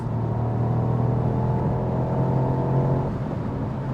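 A Mercedes-AMG SL55 cruising fast on the Autobahn, with a steady, loud engine drone beneath a constant broadband rush of wind noise from the roof, unbroken and with no talking.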